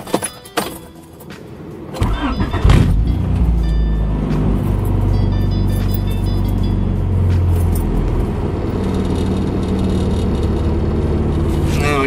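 A Honda Accord CB7 with an H22 engine and 3-inch exhaust starts with a brief crank, then settles into a deep, rumbling idle with a throaty exhaust tone, loud and close.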